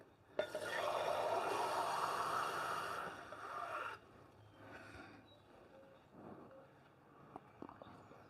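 Water gushing into a container at home, a loud steady rushing pour for about three seconds that cuts off abruptly, followed by quieter handling sounds.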